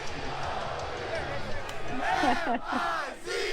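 Crowd cheering sound effect, a loud roar of shouting voices that swells toward the end, with a talking voice briefly mixed in.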